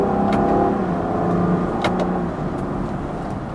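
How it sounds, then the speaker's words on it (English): Engine of a 2020 Land Rover Defender during manual gear shifts: a steady close engine drone with brief clicks, easing slightly in pitch and level as a quick shift completes. "when you do choose to shift manually, it actually does it really quickly"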